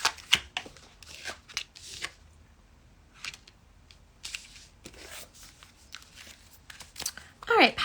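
Oracle cards from an Offerings Oracle deck are shuffled in close, quick bursts of riffling and card flicks, with a voice speaking at times between the shuffles.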